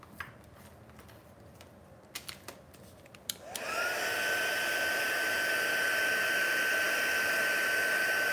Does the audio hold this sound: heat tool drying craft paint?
yes